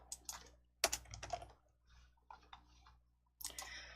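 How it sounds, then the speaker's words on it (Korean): Keys click on a computer keyboard while Ctrl+F10 is pressed in the Hangul word processor. Sharp, close taps come in short clusters separated by brief silences, with no voice heard. "컨트롤 F10 눌러주실게요"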